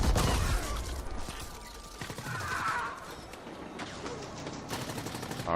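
Turrets firing in the sci-fi shooter The Ascent, bursts of rapid mechanical shots mixed with clanking and whirring game effects, rising and falling in intensity.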